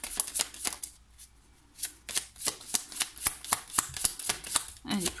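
Tarot cards are shuffled by hand in quick, crisp riffling bursts, close and clear, with a short pause before the rapid flicking picks up again.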